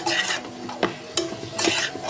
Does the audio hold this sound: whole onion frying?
yes